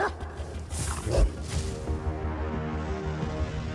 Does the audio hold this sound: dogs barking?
yes